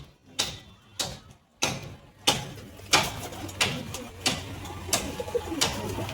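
A Rampuri pigeon cock coos in a loft, giving a run of close, loud, rhythmic coos about every half second, with a few soft clicks between them.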